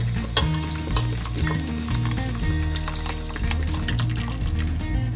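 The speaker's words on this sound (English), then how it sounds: "Now we're gonna go ahead and add the vinegar." Vinegar pours over homegrown chili peppers being readied for a Tabasco-style hot sauce, giving a steady, close splashing and gurgling of liquid that lasts throughout.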